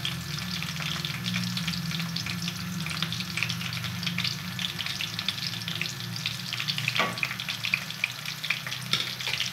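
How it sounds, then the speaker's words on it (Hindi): Cumin seeds and garlic fry in hot oil with a steady, dense sizzle and crackle that runs unbroken throughout, close and fairly loud, with a faint clink of a utensil near the end. "ज़ीरा और लहसुन जब ये भूनता है"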